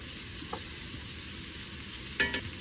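Diced potatoes sizzle steadily as they go back into a hot skillet for a smoky garlic butter ground beef dish, with a soft, even hiss and a couple of brief utensil clanks near the end.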